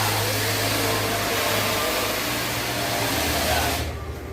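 A 700-watt carpet brushing machine, motor running at factory RPM on a very dirty carpet, gives a steady loud whirring drone that holds evenly, then cuts off abruptly near the end.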